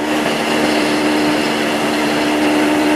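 A 1976 AMF Harley-Davidson Aermacchi SS 250 motorcycle engine runs steadily while riding through a sweeping corner, a loud continuous buzzing drone with wind noise and no talking.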